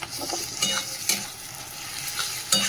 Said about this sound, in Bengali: যে পেঁয়াজটা ভাজা হচ্ছে